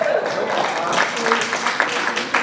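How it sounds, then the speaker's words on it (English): An audience at a live mentalism stage show claps in a steady patter, with a voice talking over the applause. "a round of applause"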